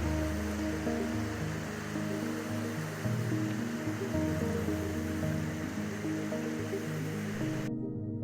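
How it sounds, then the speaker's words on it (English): Steady rushing and gurgling of a small creek flowing nearby in the Wallowa Mountains, continuous and fairly even, with no voices, cutting off abruptly at the end. "Beautiful little creek, got Steve down there."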